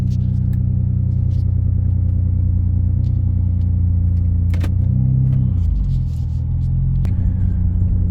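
A 2009-2014 Nissan Maxima engine idles steadily just after starting, a loud continuous low rumble with a brief dip and shift in pitch midway and a few faint clicks and jingles on top.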